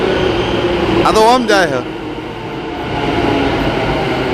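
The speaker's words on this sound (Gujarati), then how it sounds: "આ આવી ટ્રેન આવી" A metro train arrives at a large station, giving a loud, steady rumble and hum of the rail cars throughout. A voice briefly speaks over it early on.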